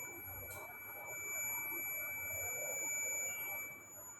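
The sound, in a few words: digital multimeter continuity test beep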